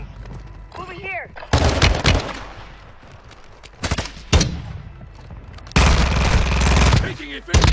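Loud automatic gunfire in the video game Warzone 2.0 comes in long rattling bursts with sharp single cracks between them, close and harsh, over a game soundtrack with a brief voice.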